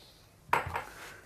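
A pan clatters once against a kitchen surface while apple compote is being made with boiling water and sugar, a short sharp metallic knock with a brief second rattle, close and alone.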